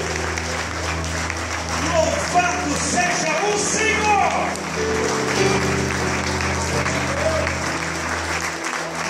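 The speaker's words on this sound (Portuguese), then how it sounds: "Aplauda o Senhor nesta noite bem forte aí" Church congregation clapping at an evening service, steady dense applause running under a voice and a sustained droning musical background.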